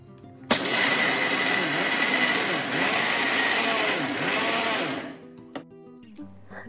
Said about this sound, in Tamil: ஸோ வெல்லம் பாதி கடலை பாதி அப்படி போட்டு 3 பேட்சா போட்டு அரைச்சி எடுத்துக்கிட்டேன்.